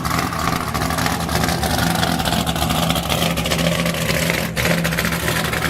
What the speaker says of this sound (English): an F-cam car can sound like this if you simply raise the RPMs